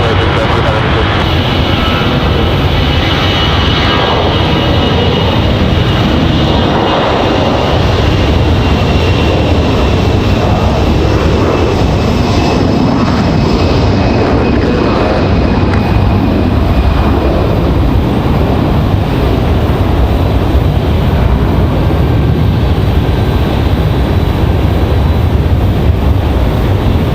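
A jet airliner rolls for takeoff on runway 5 left at Raleigh-Durham International, a steady loud roaring engine rumble filling the whole stretch, with tower radio chatter and a voice talking over it.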